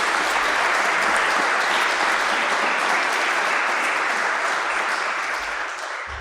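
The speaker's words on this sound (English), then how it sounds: "If you could also give him a round of applause." A conference audience gives loud, sustained applause at an apologetics debate event, a thick, even roar of clapping lasting about six seconds that thins out just before it ends.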